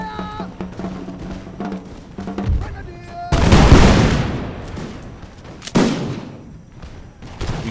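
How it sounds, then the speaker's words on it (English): Musket volleys and booming cannon fire in a war video game battle of the First Anglo-Afghan War, loud crackling bursts with heavy blasts around the middle and again later, close and dense, with no speech. "We simply have to keep up the fire."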